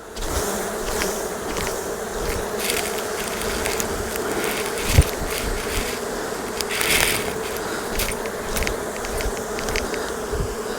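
Dense, steady buzzing of many honey bees close by during honey harvest, with brief thumps and rustles as a frame is shaken to dislodge them; no talking.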